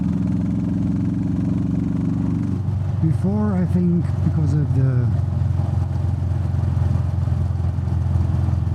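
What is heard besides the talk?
Meteor 350 motorcycle engine running with DNA air filter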